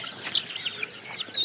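Sonali hybrid chicks on a poultry farm give high, thin peeping calls, a few short chirps in quick succession, close by and fairly clear.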